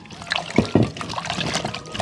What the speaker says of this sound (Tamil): முதல் பிடுங்கின கிழங்கு நன்றாக 2 தரம் கழுவ வேண்டும்